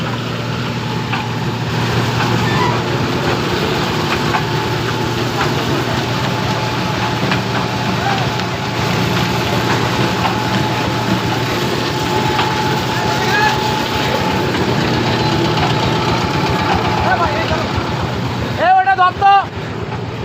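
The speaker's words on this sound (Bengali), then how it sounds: "সরিষা তেলের মেশিন। দেখেন এই যে চলতেছে মেশিনগুলো রিয়েল।" Automatic mustard oil press machines running in a mill showroom in Faridpur, Bangladesh, a loud continuous mechanical drone and hum with steady tonal whine throughout, briefly broken near the end.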